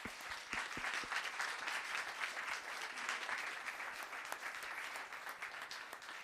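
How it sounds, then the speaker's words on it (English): Audience applause fills a town council meeting in Los Gatos, a steady wash of many hands clapping at moderate distance, sustained evenly for several seconds without a break. "One more round of applause."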